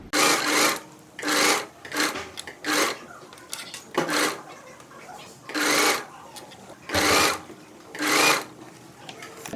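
A sewing machine stitches the seam of a midi skirt in repeated short bursts of rapid whirring, each lasting about half a second, separated by quieter pauses with faint handling of fabric.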